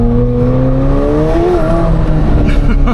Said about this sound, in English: Those downshifts, man. You can hear it.